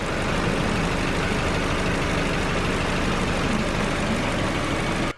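A Bedford CA van's engine running steadily with the alternator charging, a constant dense hum and rumble, close and unbroken until it cuts off at the end.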